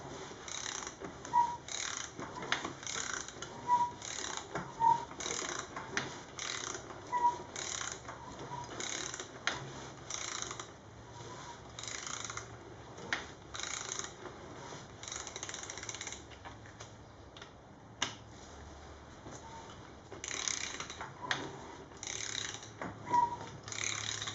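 Ratchet clicking steadily as a Honda ST1100 engine is turned clockwise by hand during a timing belt change, seating the belt; repeated close mechanical pawl clicks run throughout with short pauses, no talking.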